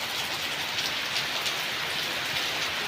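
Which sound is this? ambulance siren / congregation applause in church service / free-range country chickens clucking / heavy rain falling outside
heavy rain falling outside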